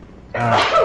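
A single short sneeze bursts out close and loud after a brief quiet moment.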